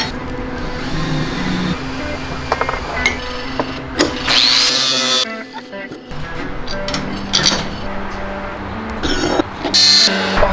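A power tool cuts a metal spacer for a truck bracket in a garage, its loud grinding whine coming in harsh bursts between pauses, close up, with some background noise and talk around it.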